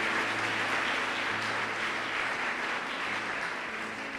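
A church congregation applauds during a sermon, a steady, dense wash of many hands clapping together at moderate loudness for about four seconds, with no talking over it.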